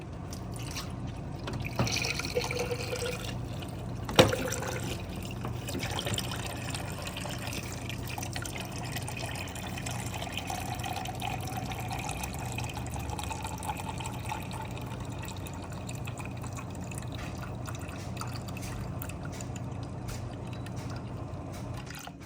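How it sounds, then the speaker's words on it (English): Water poured and trickling into a bowl of raw dog food for a Rottweiler, a steady close wet splashing and dripping that runs on continuously with a brief louder clink early on. "I'm gonna add a little more water."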